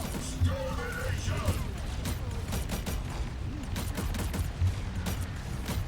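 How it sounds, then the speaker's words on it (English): Ultron's weapon firing in a video game, a series of sharp, loud energy blasts spaced by short delays, with a player's voice talking over the shots. "What's with the delay in between the firing?"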